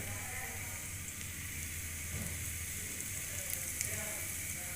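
Pieces of batter for crunchy homemade chips sizzle steadily in hot oil in a small pot, a continuous frying hiss with a low background hum and no voices heard.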